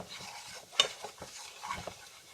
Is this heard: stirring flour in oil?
yes